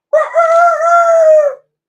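A person imitates a rooster crowing during a tabletop role-playing game, giving one loud, sustained cock-a-doodle-doo close to the microphone with a voiced, tonal quality.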